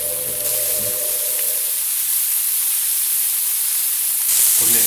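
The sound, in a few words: meat sizzling on a Zaigle Aburin electric grill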